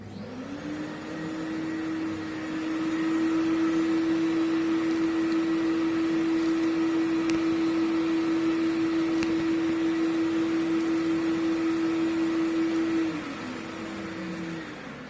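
A professional carpet cleaning machine's motor hums steadily at a constant pitch for several seconds, rising in loudness as it starts, then winding down near the end.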